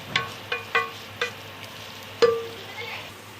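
Onions softening in a pan for chicken maharani, with a spoon knocking against the pan in a handful of sharp, irregular taps over a faint, low background.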